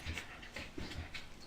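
A dog plays with a cat, giving quick, faint panting breaths in a steady rhythm, close but soft.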